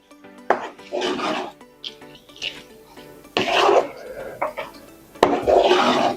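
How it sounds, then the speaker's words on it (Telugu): Gongura pachadi being stirred in a pot, the tempering just mixed in, with bursts of scraping and clinking of a spoon against metal separated by quieter pauses, close by. "ఇప్పుడు చక్కగా ఇదంతా ఒకసారి కలిపేసుకుందామండి"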